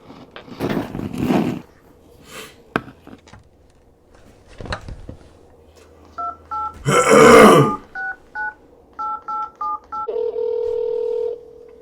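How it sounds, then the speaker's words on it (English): A telephone number dialed as a run of short keypad tones in quick bursts, preceded by scattered handling clicks and a loud rustle, ending in a steady ringing tone. "Detective Romero decided to contact the witness's mother again, this time by phone"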